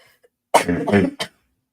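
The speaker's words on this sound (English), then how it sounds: "Apologies for this cough, by the way, to everybody." A few harsh, close coughs in quick succession, loud and dry, followed by silence.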